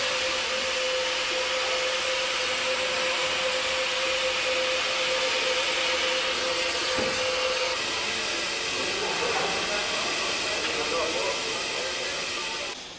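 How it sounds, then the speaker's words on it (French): A hot air welding torch fitted with a nozzle, welding polyethylene, gives a steady, loud blowing hiss that runs unbroken throughout, close to the microphone. "soudure au moyen d'un chalumeau à air chaud équipé d'une buse"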